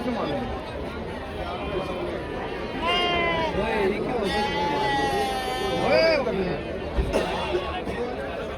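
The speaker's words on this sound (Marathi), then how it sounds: "तर इकडे मेंढ्या आहेत पाहू शकाल" Sheep bleating in a busy livestock market, several wavering calls rising over a crowd's chatter and background noise.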